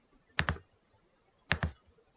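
Two sharp keystrokes on a computer keyboard while a letter is typed into a CRM data-entry form, spaced about a second apart, close and crisp against a quiet room.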